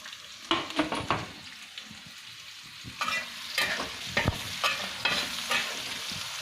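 Onion, dry red chilies and cumin frying in a pan, a close steady sizzle broken by repeated scraping stirs of a spoon against the metal.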